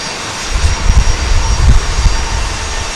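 A Southwest Airlines jet airplane at Dallas Love Field rumbles loud and near, its deep engine roar swelling and pulsing through a few seconds.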